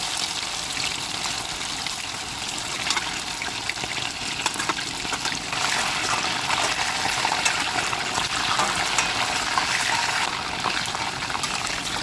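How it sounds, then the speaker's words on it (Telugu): Chicken pieces sizzle in hot oil, frying toward a golden brown, a dense, steady crackling hiss that stays close and constant without any talk. "ఆయిల్ బాగా హీట్ అయ్యాక ఇక్కడ ఒక్కొక్క పీస్ వేసుకొని మంచిగా క్రిస్పీగా గోల్డెన్ బ్రౌన్ కలర్ వచ్చేంత వరకు అయితే ఫ్రై చేసుకోవాలి చికెన్ని"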